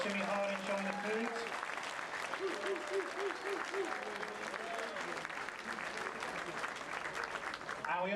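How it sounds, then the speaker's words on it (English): A large audience applauds aboard the Royal Caribbean cruise ship Grandeur of the Seas, sustained dense clapping throughout, with a voice and faint tones carrying over it. "how about a nice big round of applause one more time for Marcus and his team"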